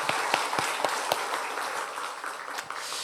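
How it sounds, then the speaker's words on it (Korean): A church congregation claps during a Sunday service, a scattered run of sharp individual claps with a steady wash of applause underneath, moderately loud and not very close. "우리 주일 학생들 격려하는 마음을 담아서 우리 영광의 박수를 하나님께 올릴까요?"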